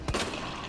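A single sharp gunshot from Resident Evil 2 Remake, one abrupt crack near the start followed by a short decaying tail and low game ambience.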